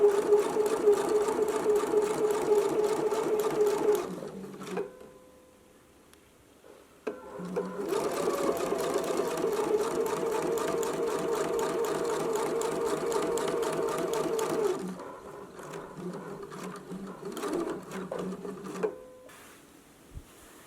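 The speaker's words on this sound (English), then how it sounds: "now we can go to the sewing machine" A sewing machine stitches a narrow hem in long, steady runs of rapid whirring, pausing twice for a few seconds of near silence with faint handling sounds before starting again.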